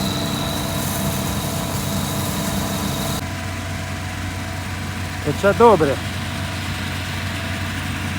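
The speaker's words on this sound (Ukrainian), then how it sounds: "комбайн добре молотить" A combine harvester threshing rye gives a steady engine drone throughout, with a brief voice cutting in briefly over the mechanical hum.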